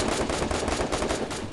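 Rapid automatic gunfire from the video game Free Fire rattles continuously in a loud, dense burst of closely spaced shots.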